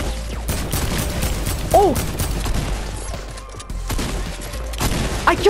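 Gunfire bursts in a Fortnite match, a dense fusillade of rapid shots running throughout at close range with an exclaimed voice in the middle.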